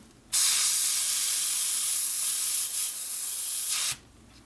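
A spray nozzle spraying isopropyl alcohol hisses in one continuous burst of about three and a half seconds, loud and close, stopping abruptly.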